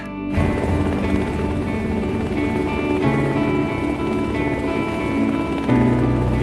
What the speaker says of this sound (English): I could hear him over the noise of the helicopter